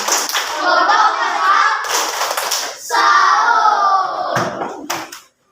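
A fourth-grade class in an Indonesian primary school gives a rhythmic salute clap: several sharp group claps land between children's chanting voices, close and loud in a busy classroom.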